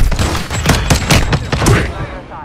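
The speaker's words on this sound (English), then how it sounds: "I'm just trying to shotgun him to my death" Shotgun gunfire in the Warzone 2 video game cracks out in a quick series of loud, sharp blasts over about two seconds.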